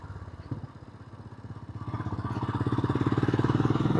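Royal Enfield Himalayan 411 motorcycle on an evening ride, its single-cylinder engine thumping in a fast, even pulse that grows louder as the revs build, close and loud.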